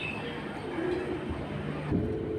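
Pigeons at a pigeon market give soft low coos over a busy background hum, with a couple of brief calls that are near but faint.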